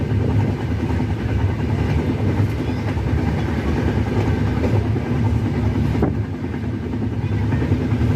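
A train running along the rails near Secunderabad railway junction, heard from inside the carriage as a steady, loud low rumble and rattle that continues throughout with no talking.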